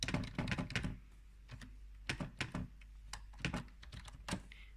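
Rapid clicking of a computer keyboard as code is typed: quick bursts of close, crisp keystrokes with short pauses between runs.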